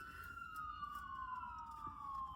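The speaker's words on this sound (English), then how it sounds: "No, the ambulance, they coming by." An ambulance siren wails steadily as it passes, its tone sliding slowly downward over a low rumble of background noise, moderately distant with no talk.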